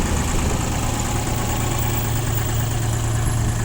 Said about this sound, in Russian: Трехцилиндровый мотор. Дизель, естественно.